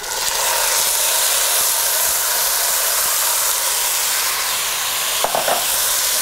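Soaked, drained rice sizzling in oil over noodles in a pot, a loud, dense, steady hiss filling the whole stretch, with a couple of brief stirring clatters near the end.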